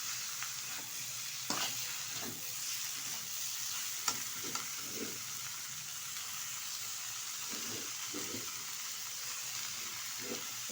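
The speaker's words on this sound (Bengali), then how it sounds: "এখন দিয়ে দেবো এর মধ্যে কুচিয়ে রাখা বাঁধাকপি, অল্প অল্প করে দেবো আর নেড়ে নেব।" Chopped cabbage frying with potatoes and spices is stirred in a pan, with a steady sizzle and hiss under intermittent scrapes and knocks of the spoon, and no talking.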